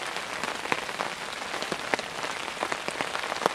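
Steady rain falls through woodland, a dense continuous patter broken by sharper individual drops striking leaves and surfaces nearby, with no voices present.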